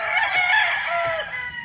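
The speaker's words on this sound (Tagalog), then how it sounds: "Tingnan nyo yung uri ng manok" Gamecock roosters crow in overlapping calls at a game farm in Tanauan City, Batangas, fairly close, with other fowl faintly clucking in the background and no one speaking.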